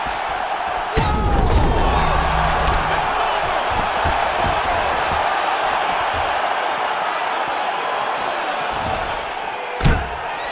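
Arena crowd roaring and cheering in a UFC video game fight after a knockout, a loud sustained wash of voices with a sharp thud near the start and another near the end.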